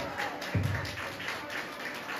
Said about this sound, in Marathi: जोरात जोरात येशूचं नाव घेऊन टाळ्या वाजून धन्यवाद द्या.